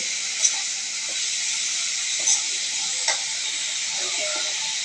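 Bitter gourd stir-fried with hilsa fish bits in a pan gives a steady, even sizzling hiss throughout, with a few soft, brief clicks of the stirring utensil.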